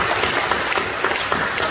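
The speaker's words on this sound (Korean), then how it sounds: "우리 격려하며 박수해 주시죠." A congregation in a church claps together during a worship service. The short burst of dense, steady applause fills the room with no speech.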